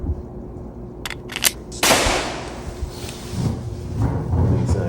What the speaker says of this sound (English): It's a gunshot in this bitch.